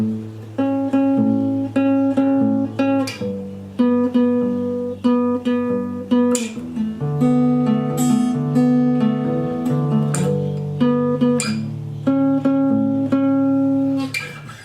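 An acoustic guitar strums a sequence of chords with clear rhythmic strokes, ringing steadily and close, with no voices.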